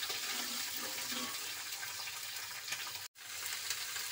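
Mixed vegetables sautéing together in a pan, a steady, even hiss of frying that runs without pause except for one brief dropout near the end.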